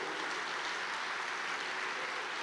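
A church congregation applauds loudly and steadily, a dense, even wash of clapping with no voices heard over it.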